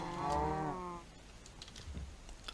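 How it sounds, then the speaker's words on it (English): A single low cow moo from a Minecraft modpack in the FTB Ultimate Pack fills the first second, clear and close, followed by quiet keyboard typing clicks. "There's a hell of a lot of cows jammed in there, isn't there?"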